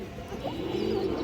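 Pigeons kept by a village fancier coo softly nearby, a low rolling call rising briefly over a murmur of other birds.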